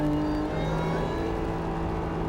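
A supercharged Honda NSX on the Tsukuba track, its engine holding a steady droning whir with a whine on top, heard close and fairly loud, with no talk over it.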